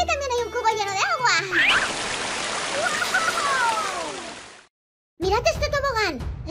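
A big bucket of water at a water park tips and sloshes, making a loud rushing splash that lasts about three seconds. Lively voices come before and after it.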